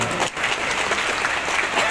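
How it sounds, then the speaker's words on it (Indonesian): A graduation crowd at UIN Jambi applauds the university rector. The clapping is dense and loud throughout the moment, with a faint voice underneath. "Tepuk tangan untuk Pak Rektor"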